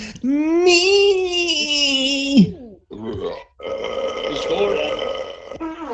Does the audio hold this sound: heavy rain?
no